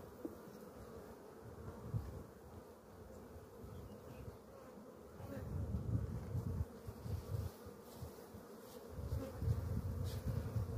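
Honeybees buzz steadily around an open hive during a beekeeper's inspection, a dense, continuous drone of many insects close by that swells louder in the second half, with no talking.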